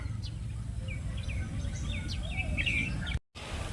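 Several sparrows chirp and tweet in quick, scattered bursts over a low outdoor rumble in a watered farm field, moderately close.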